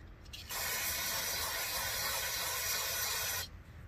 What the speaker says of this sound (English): a little bit of brake cleaner because there's a mess in there